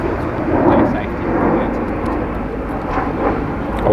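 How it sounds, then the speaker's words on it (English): A fixed-wing airplane passes overhead, a steady broad rumble swelling and easing over several seconds, fairly loud and outdoors. "I'll wait for this plane."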